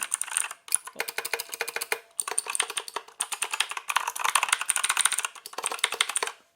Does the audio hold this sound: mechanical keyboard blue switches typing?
yes